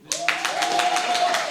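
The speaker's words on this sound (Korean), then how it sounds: "박수가 그렇게 불평등했기 때문에" Applause from a seminar audience at a university symposium, a burst of close, dense clapping that starts abruptly and keeps going steadily for over a second, with a tone ringing faintly underneath.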